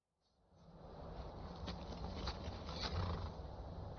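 A horse in the video game Skyrim gives a drawn-out neigh that swells from silence and holds loud and close, with faint thuds of hooves beneath and no talk.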